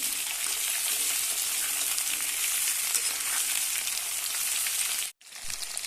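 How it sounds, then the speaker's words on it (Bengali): Cut potatoes and pointed gourd fry in hot oil with a bay leaf, giving a dense, steady hiss and crackle that runs unbroken, then cuts out briefly near the end before resuming. "আলু আর পটলটাকে হালকা লাল লাল করে একটু ভেজে নেব"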